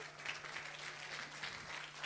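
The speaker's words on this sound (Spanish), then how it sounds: "Quiero pedirles un gran aplauso entonces para Eduardo" Faint, distant clapping from an audience at a talk on data sonification fills the whole stretch as a soft, continuous patter with a low steady hum beneath it.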